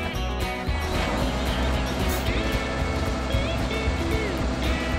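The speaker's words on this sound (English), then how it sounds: "Start the engine." A farm vehicle's engine runs in Farming Simulator 2017, a steady, dense mechanical drone with a constant level and no clear start-up surge.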